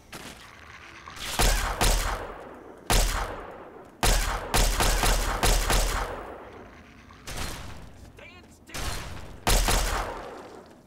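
Fallout 3 gameplay gunfire: repeated loud, close blasts in bursts of several shots with short pauses, each shot booming and then decaying, over a steady background rumble.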